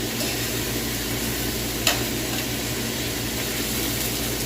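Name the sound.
meat browning in a frying pan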